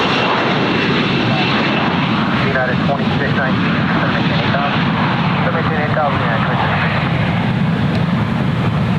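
Airplane engine at Ontario International Airport, a loud, sustained roar near and steady throughout, with radio chatter between pilots and tower heard over it.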